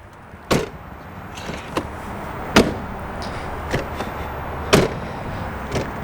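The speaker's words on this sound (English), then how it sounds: "Listen to the door." The front door of a high-mileage Jeep Wrangler JL Sahara is shut several times. There are three sharp, fairly close slams, each slightly hollow, with fainter latch clicks between them and no talking.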